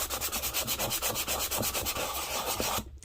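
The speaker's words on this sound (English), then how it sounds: "I'm going to sand these down" Close, rhythmic rubbing of sandpaper across a wooden jewelry box, quick regular back-and-forth strokes that blur into continuous scraping before a brief pause at the end, with no voices.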